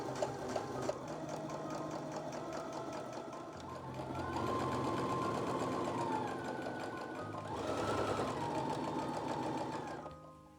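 A sewing machine stitches a dress strap in a steady, continuous whirring hum that briefly swells louder mid-run before stopping near the end.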